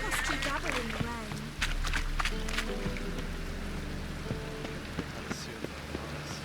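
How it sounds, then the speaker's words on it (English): Rain falls in The Witcher 3, a steady patter beneath other game sounds, footsteps and a voice talking. "Ah, let it rain."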